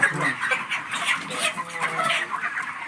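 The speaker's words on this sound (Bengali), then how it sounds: "তো আপনারা দেখতে থাকুন আমরা মুরগিগুলো কীভাবে কেজে ভরছি।" Chickens on a poultry farm cluck and squawk in an agitated, overlapping chorus while being loaded into cages, close and continuous.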